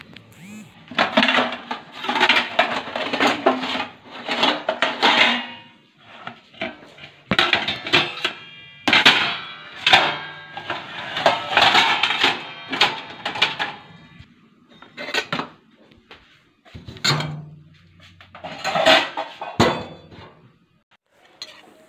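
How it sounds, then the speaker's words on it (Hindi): Steel kitchen utensils and dishes are put away in a home kitchen during a morning routine, giving repeated sharp metallic clinks, clatters and knocks in irregular bursts, close and fairly loud, with pauses between the groups of clanks. "फटाफट से मैं इन बर्तनों को लगा देती हूँ"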